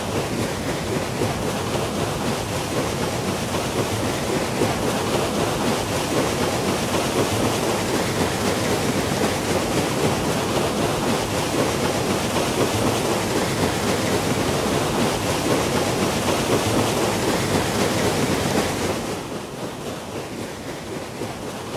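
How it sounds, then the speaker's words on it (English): Water released through a sluice falls onto the wheel of an old mill, Brindley's Mill in Leek, as a steady, dense roar of rushing water that drops slightly in level near the end. "So we're now starting the wheel by raising the sluice gear, and immediately the water starts to fall on the wheel"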